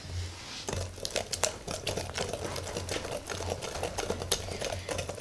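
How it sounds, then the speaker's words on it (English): Eggs whisked into cheesecake brownie batter in a bowl, quick, uneven rattling and tapping strokes of the whisk, close and moderately loud, running almost continuously. "Whisk our eggs in one at a time."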